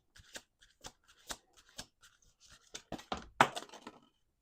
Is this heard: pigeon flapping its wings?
no